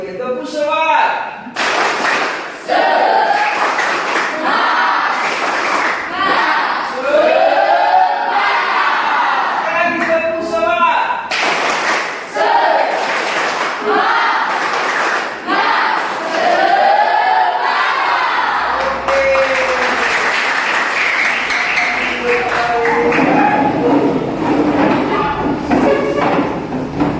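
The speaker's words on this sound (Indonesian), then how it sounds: "Kalau mau tepuk semangat semua serta ya. Oke. 1, 2, 3, tepuk semangat." A classroom group does a rhythmic spirit clap, with loud, patterned clapping mixed with chanting and shouted voices, repeated in bursts over nearly half a minute, as a teacher speaks between them.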